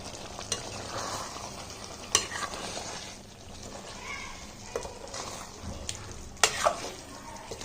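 Green chillies and curry leaves hit hot oil in a pan for spicy chicken curry, a low, faint sizzle broken by occasional sharp clicks and scrapes of stirring.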